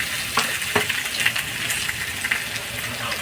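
Ginger paste hitting hot oil in a pan while cooking a cauliflower dhokar dalna dish with potatoes, a dense continuous sizzle with a few soft stirring scrapes and taps.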